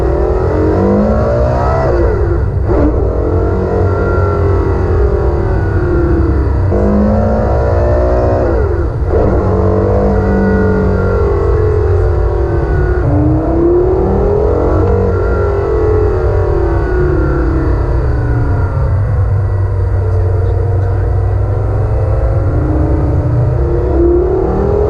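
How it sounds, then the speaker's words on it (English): From inside a Porsche Carrera GT climbing the hill at the Goodwood Festival of Speed, the engine howls loudly and continuously, rising in pitch through each gear, with several brief dips at upshifts and no talking. "this thing's now going to go up the hill, and we're going to provide you some in-car footage of that sound, of that drive"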